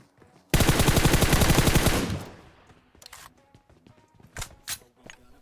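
Rapid automatic gunfire in the mobile battle royale game PUBG Mobile, a loud sustained burst of closely spaced shots lasting over a second, followed by a few scattered softer clicks and thuds.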